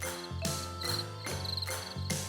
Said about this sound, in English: what the heck's going on with our audio? Are those crickets?